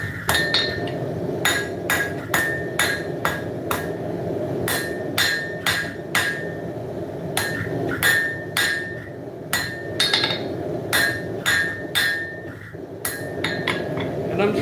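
Hammer repeatedly striking hot steel on an anvil while forging out a tapered former punch into a ring pommel grip for a reverse falchion; sharp ringing blows come in irregular bursts with brief pauses, close and alone.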